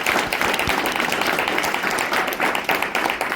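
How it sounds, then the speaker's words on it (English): Dense applause from an audience at a college letter-of-intent signing ceremony for a kicker and punter, a loud continuous wash of many hands clapping, close and sustained from start to finish. "So if we could have another round of applause."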